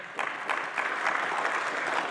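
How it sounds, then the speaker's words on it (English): Audience applause at a church keynote gathering, a steady dense patter of many hands clapping throughout, moderately loud with no talk over it. "Yeah, give yourselves a clap."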